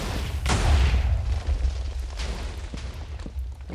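A deep video-game cannon explosion in Minecraft bursts out and rumbles, followed by a few sharper pops and crackles fading off, loud and close, with no voices.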